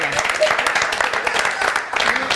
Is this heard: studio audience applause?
yes